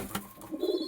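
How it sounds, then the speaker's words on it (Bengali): A male pet pigeon gives a short, soft throaty coo, close by and quiet, preceded by a faint rustle. "এটা হচ্ছে নর কবুতরটি, সেই ডাক, অনেক ভালো ডাকে"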